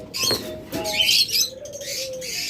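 Several caged birds in a breeding setup, such as mynas, lovebirds and budgerigars, chirp and coo close by, short calls overlapping with soft wing flutters, no voices.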